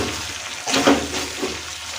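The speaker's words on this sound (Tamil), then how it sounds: "சிக்கன் ட்ரை ரோஸ்ட்டை நல்லா மிக்ஸ் பண்ணி விட்டுக்கலாம்" A spoon works through chicken dry roast in a hot pan, giving a continuous frying sizzle with a louder scraping stir partway through, close up and without talk.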